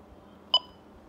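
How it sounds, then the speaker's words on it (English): A single short electronic key beep from an Icom VHF radio, bright and clean, sounding once in an otherwise quiet room with a faint background hum. "Let's turn the key beep off."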